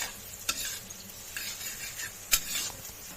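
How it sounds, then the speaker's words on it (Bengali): Sugar sizzles in a pan while it is stirred for fried rice, with soft frying crackle and a couple of sharp spatula scrapes against the pan. "চিনিটা গলে যাওয়া পর্যন্ত নাড়াচাড়া করে একটু ভেজে নিতে হবে।"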